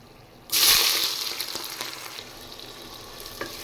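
Chopped onions hit hot oil already holding bay leaves, chillies, whole cumin and whole garam masala, bursting into a loud, sudden sizzle that gradually eases into a steady crackling fry with scattered pops.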